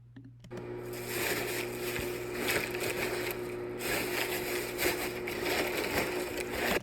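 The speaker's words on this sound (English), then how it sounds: "So yeah, here is the original recording of the bubble wrap." Raw, unprocessed bubble wrap recorded for a shaker sound: dense, continuous crackling and popping that starts after a brief pause and sits over a low, steady hum.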